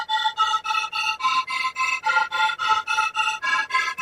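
Lead synth plays a sustained bright tone whose volume pulses rhythmically from an LFO, giving an even throbbing tremolo of about four beats per second, alone without talk.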